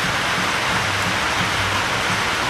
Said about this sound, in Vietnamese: Mưa lớn nữa rồi cả nhà